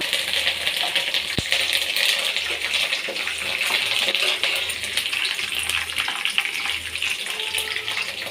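Peanuts fry in oil in a kadai on a low flame, giving a continuous close sizzle with fine crackling and one sharp tick partway through.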